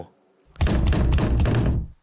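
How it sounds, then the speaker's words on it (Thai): Several firm knocks rap on a wooden room door in an abandoned school, a quick cluster of loud, close thuds after a quiet start. "ผมตัดสินใจเดินไปยังประตูห้องหมายเลข 203 และทำการเคาะประตู"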